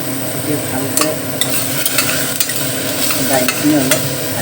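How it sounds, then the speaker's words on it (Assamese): Lentils (dal) fry and are stirred in a pan with mustard oil, salt and turmeric, giving a loud, continuous sizzle broken by scraping spatula strokes and occasional sharp clinks against the pan. "দাইলখিনি অলপ ভাজিম।"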